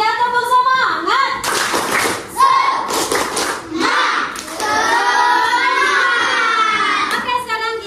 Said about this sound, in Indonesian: sebelumnya kita tepuk semangat lagi ya, tepuk semangat